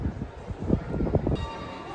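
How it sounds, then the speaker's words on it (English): Church bells in Penzance, Cornwall, strike five o'clock on a winter evening before a Christmas lights switch-on, with a series of evenly spaced resonant strokes ringing out over crowd and street ambience. "the bells are stating that it's 5 o'clock, 5 p.m."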